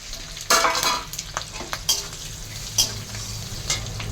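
A bay leaf dropped into hot oil already tempered with cumin seeds sets off sharp bursts of sizzling and spattering, then a lower steady fry with a few stirring clinks, close and unaccompanied by speech.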